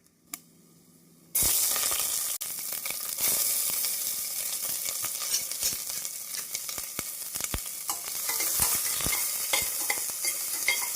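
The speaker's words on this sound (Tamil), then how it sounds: "வெங்காயம் ஒரு நிமிடம் வதங்கவும்" Chopped onions hit a hot pan for tomato biryani and start sizzling loudly, the steady frying hiss continuing with occasional stirring scrapes and clicks.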